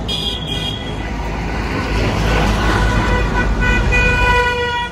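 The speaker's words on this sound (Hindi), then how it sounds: "गाड़ी निकल रहे हैं अपनी" A car is driven out through a busy road while horns toot repeatedly nearby, sustained honking tones over a loud rumble of traffic and engine noise, with no voices.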